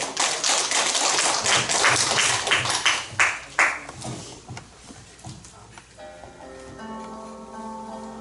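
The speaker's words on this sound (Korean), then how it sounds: "뜨거운 박수로 맞이해주시기 바랍니다." An audience at a poetry recitation event clapping, dense applause that rises to sharp louder claps and then fades out as soft music begins underneath.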